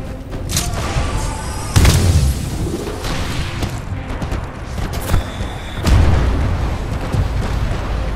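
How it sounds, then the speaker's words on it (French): Heavy booming explosions go off during a Bounty Hunt match in Titanfall 2, with two loud blasts about four seconds apart over constant rumbling combat noise. "Pourquoi je suis allé vers les explosions?"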